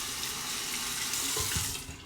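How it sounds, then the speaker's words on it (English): A faucet runs steadily for a cold water rinse at a sink while shaving, a close, even hiss of flowing water with no voices. "A cold water rinse."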